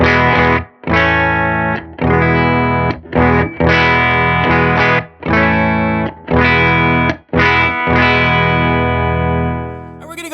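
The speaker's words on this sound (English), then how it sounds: "for what I think is kind of a standard fuzz face type sound" Silktone FUZZ+ fuzz pedal at full fuzz with cleanup off, on a Safe Guitars OH19 guitar into a Silktone amp: thick, buzzy sustained chords strummed in repeated bursts with short gaps between them, loud and close.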